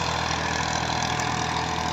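A 2000 Massey Ferguson 240 tractor pulls a cultivator under load through field soil in Punjab, Pakistan, its engine giving a steady, loud, continuous drone with no breaks.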